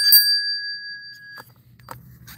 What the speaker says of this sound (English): I've got a replica of the bell that they did on The Wonderful Life.